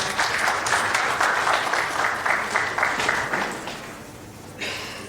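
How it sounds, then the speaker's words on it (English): Staff at a 2021 corporate rewards and recognition ceremony applaud an honoree with a brisk round of clapping that runs for about four seconds, drops away, then briefly picks up again. "Round of applause, people, round of applause."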